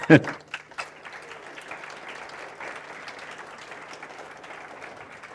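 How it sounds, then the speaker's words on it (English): Applause from the audience at a mathematics foundation awards function, opening with a few sharp nearby claps and then settling into a soft, steady, distant clatter of clapping. "So, a round of applause for Prof. Yoda."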